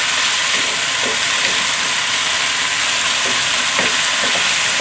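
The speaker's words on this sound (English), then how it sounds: "Now you stir. See, you want to keep the frying pan nice and hot." Ginger garlic chicken sizzles and fries in a hot pan, a steady bright hiss with soft scraping stir strokes every second or so, close and alone.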